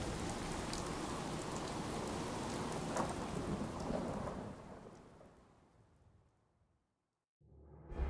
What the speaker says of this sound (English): now we're back and it's a thunderstorm again